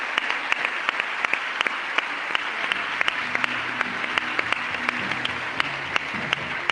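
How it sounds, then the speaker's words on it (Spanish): Audience applause for an author at a reading event, a steady patter of many hands with a few sharp, distinct claps standing out, while faint voices murmur underneath. "Le damos un aplauso."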